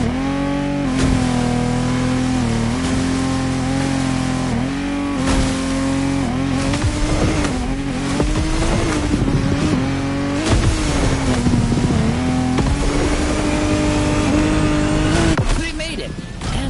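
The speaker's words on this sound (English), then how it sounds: "Contestants need to push their engines." Powerful engines of a Lamborghini Technomar speedboat roar continuously during a water race, a loud sustained revving drone with pitch swells, under heavy announcer talk and music throughout.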